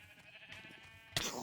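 A short, quiet Minecraft sheep bleat from the video game plays in a brief wavering baa, followed by a sudden louder burst of game noise at the end.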